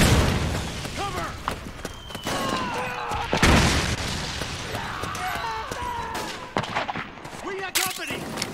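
Gunfire from the video game Metal Gear Solid 4 cracks out in repeated shots and bursts, with booming impacts over a busy battle soundscape and shouted voices scattered through the fight.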